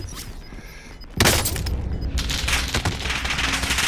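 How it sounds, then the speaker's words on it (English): Heavy automatic gunfire in a Call of Duty: Modern Warfare match, loud and close, with one sharp burst striking hard and a dense rattle of shots carrying on after it; no voices over the firing. "Control guy is shooting at me"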